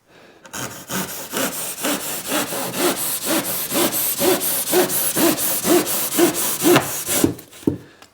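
A hand saw trims the back edge off a piece of wood during a stone barn renovation, with about fifteen even, close, rasping strokes in a steady rhythm and a few faster final cuts.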